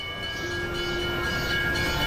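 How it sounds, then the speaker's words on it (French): An old bell tram passing slowly, a steady rail rumble with sustained tonal ringing and hum that holds evenly through the clip, with no voices. "Le tramway à la cloche passe lentement devant nous"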